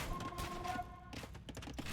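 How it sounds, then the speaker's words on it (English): Cannon fire smashes a trebuchet in an Age of Empires style strategy game match, a dense burst of booming, crackling impacts and thuds packed together over a steady game soundscape, loud and continuous throughout. "A Treb gets destroyed by the 2 cannons."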